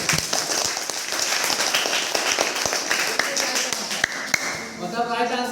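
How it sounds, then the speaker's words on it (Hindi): A group of people clap for someone during a demonstration of an aluminium experiment, giving a steady patter of applause with a voice speaking over it. "हाँ बंदे के लिए ताली लगाओ।"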